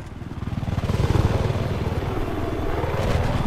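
A transport helicopter in Battlefield 4 chops nearby with a steady, throbbing rotor and engine drone that builds in loudness and then holds.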